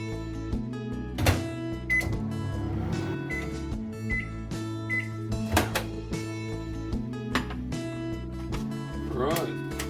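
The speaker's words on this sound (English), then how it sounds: "let's get some rice in the microwave" A kitchen microwave is set up to heat rice: its door clunks, keypad beeps chirp several times, and a low running hum sits under scattered clatter.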